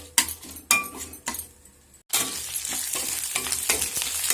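Ginger, garlic and curry leaves sautéing in a pan while making hotel-style raw mango pickle: a loud, steady sizzle rises after a few stirring and utensil clinks, filling the rest of the clip with no talk.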